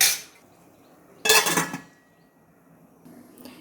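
A metal lid clanks down onto a pot of boiling tamarind thokku in one short, close clattering burst, followed by quiet.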